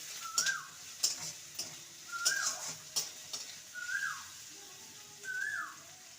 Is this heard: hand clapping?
no